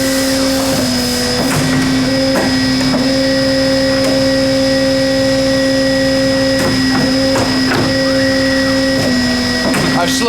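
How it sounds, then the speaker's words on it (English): An automated tube bending machine runs its cycle with a loud, steady motor hum and whine, punctuated by repeated clunks and hissing pneumatic actuations at irregular intervals throughout. "You're going to lock it in the machine, and you're going to set it up to run. And it will run through its cycle and bend the tubes"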